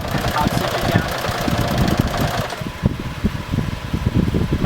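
A sewing machine top stitches the edge of a homemade laptop bag, running in a steady rapid mechanical chatter close by that changes pace partway through, with a voice talking over it.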